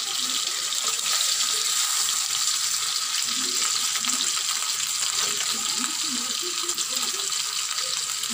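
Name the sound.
rui fish being turned and fried in oil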